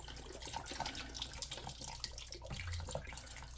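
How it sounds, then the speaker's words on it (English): Water being poured into a pot of beef birria with chopped ingredients and boxed stock, a soft, continuous trickling splash heard faintly and close, without any talking. "I will add a little bit of water"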